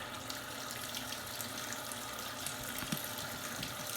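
Water runs steadily into a top-loading washing machine as it begins to fill on a low water level for a load of dirty white jeans, a soft continuous rush heard alone and close.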